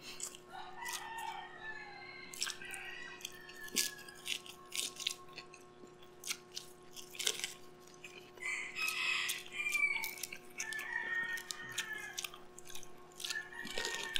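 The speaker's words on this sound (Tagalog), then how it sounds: "ang dami ng mga tandang dito sa harapan namin" Several roosters crow one after another at middling distance, with occasional clucks and crunching in between against a steady background hum.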